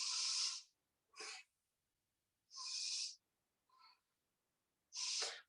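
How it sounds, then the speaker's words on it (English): Indoors during a quiet yoga class, a cat gives a series of short, soft sneezes and snorts, five bursts spaced about a second apart with silence between them. "Do you hear my cat sneezing?"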